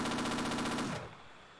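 Rapid automatic gunfire from a weapon in the video game Half-Life, a dense rattling burst of evenly spaced shots that stops abruptly near the end, leaving a faint fading tail.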